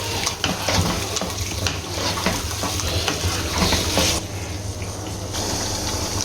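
Yogurt is stirred into creamy white chicken in a hot pan, a steady sizzling fry with wet stirring and scraping throughout, loud and close, no voices.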